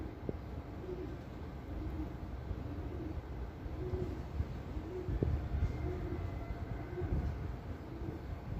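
Pigeons coo on a rooftop in soft, rhythmic, repeated phrases at moderate distance over a low, steady background rumble.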